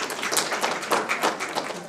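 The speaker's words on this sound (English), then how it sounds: "Give him a round of applause" A short burst of audience applause at a featured artist interview event, dense steady clapping heard at a moderate distance without talk.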